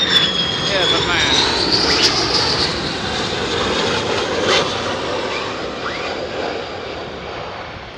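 Two F-35 fighter jets landing at RAF Lakenheath, a loud sustained jet roar with a descending engine whine filling the whole stretch, with people talking nearby underneath.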